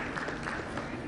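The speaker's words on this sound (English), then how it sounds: "A round of applause for Executive Director Dr." Applause from a seated audience at a healthcare summit, a dense, even wash of clapping heard from a distance with no breaks over one short stretch.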